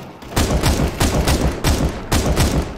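Bursts of gunfire in a shooter video game, with an AWP sniper rifle in play, come in four evenly spaced loud volleys, each a sharp broadband crack trailing into a brief rumble, close and dominant with no talk over it.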